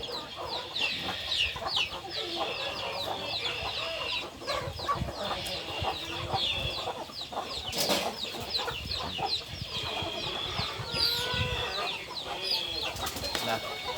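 Many chickens cluck and chatter nonstop nearby, with occasional louder squawks and a brief flutter of wings amid the busy flock noise.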